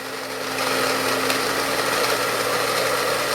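A blender on its mix setting, running off a portable power station, hums steadily with a constant motor whir, moderately loud and close, with no talk.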